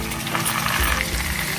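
Sliced onions frying in a pan for a butter brinjal curry give off a steady, close sizzle with soft crackling throughout.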